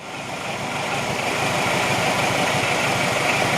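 Peugeot 207 engine idling steadily right after its first start, a close, even mechanical hum and rumble that holds constant with no voices.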